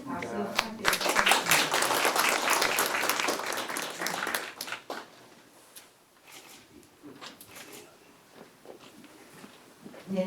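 Audience applause at a charity donation handover during an orchid society exhibition ceremony: a burst of dense clapping for about five seconds, then fading to scattered claps and quiet room noise.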